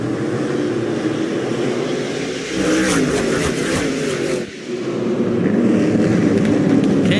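SRX race cars roar together on the oval at Lucas Oil Speedway as they accelerate at a green flag restart, a loud sustained engine drone that briefly dips and then swells again.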